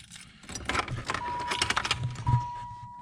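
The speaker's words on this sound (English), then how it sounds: "I gotta find the right key first" A bunch of keys jangling close up, with repeated metallic clinks and rattles as someone searches for the right key near a car in a garage, alone and fairly quiet.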